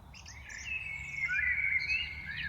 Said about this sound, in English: So this is a mix of birds, you know. There are various species of birds.